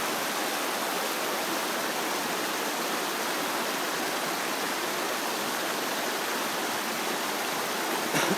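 River water rushes past during salmon fishing, a constant broadband roar of flowing current that holds steady throughout, close and fairly loud, with no voices.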